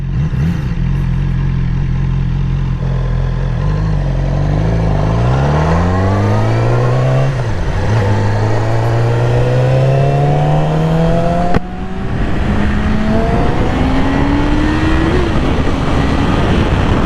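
A 2020 Yamaha R6 motorcycle engine revs up through rising gear pulls while riding, with a brief drop between shifts, loud and close over wind noise.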